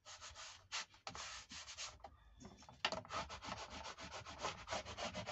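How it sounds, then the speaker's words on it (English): A burnishing tool is rubbed firmly over a folded paper flap on a paper bag, making rapid close scraping strokes in an uneven rhythm that pause briefly midway. "Give that a good burnishing"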